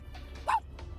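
A human voice imitating a tiny dog, with one quick, high yip in the middle of a brief, quiet moment.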